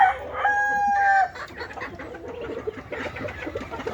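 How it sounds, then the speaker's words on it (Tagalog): A rooster crows loudly and nearby, followed by scattered soft clucking from several chickens. "susunod naman natin yung ating manok."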